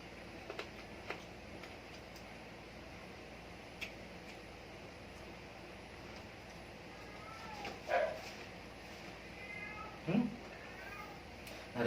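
Two drawn-out cat meows rise out of a quiet room, one around the middle and one later, among a few faint clicks and taps.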